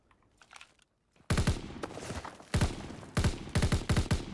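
Gunshots in Call of Duty: WWII, in the Hurtgen Forest campaign: after a quiet start, a loud volley of sharp shots rings out, a burst followed by several more spaced single and double cracks, close and punchy.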